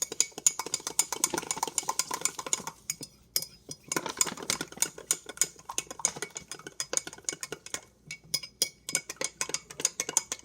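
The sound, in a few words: stirring chia seeds into a little water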